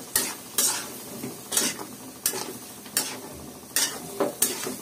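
Thick-cut potato chunks stir-fried with cooked spices in a pan: a series of sharp scraping strokes about every half second, each with a short burst of sizzle, close and distinct, with no talking.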